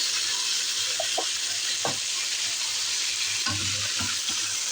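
Mutton pieces fry with salt in a hot pan, giving a steady close sizzle and hiss, broken by a few soft scraping stirs.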